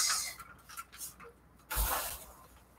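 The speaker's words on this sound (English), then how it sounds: "Here's the spray." A single short burst of spray hisses out, sandwiched between softer, scattered rustles and handling noises.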